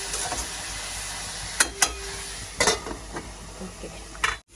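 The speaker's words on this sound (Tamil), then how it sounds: "திருப்பி வச்சா நல்ல எண்ணெயில் வதங்கி வரட்டும்" Food sautéing in oil in a pan, a steady soft sizzle with several sharp scraping stirs of a utensil against the pan, close by and with no talking.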